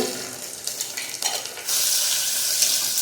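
Onion frying in oil with cumin in a pan sizzles as a spoon stirs, with scraping strokes early on and then a steady, louder hiss that settles in for the rest.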